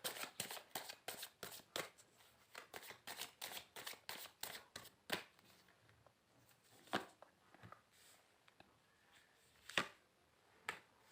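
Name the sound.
shuffling tarot cards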